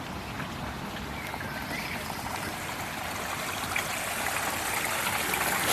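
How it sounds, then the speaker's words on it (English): A small waterfall in Tunstall Park gives a steady, broad rushing and splashing of water, close and continuous throughout, with no voices. "there's a waterfall. It's lovely sounds."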